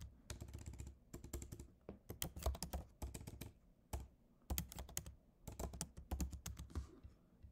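Rapid typing on a computer keyboard, dense bursts of close key clicks in irregular runs with short pauses between, no voices.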